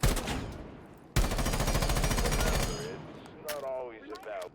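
A gun in Rainbow Six Siege fires a loud, rapid automatic burst lasting about a second and a half after a quieter opening stretch, and a voice speaks briefly near the end.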